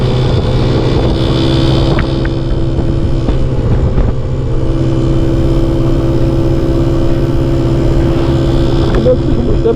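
A motorcycle engine runs steadily through a ride from Casablanca toward Azemmour in Morocco, a loud continuous drone with a few brief throttle rises and no talk over it.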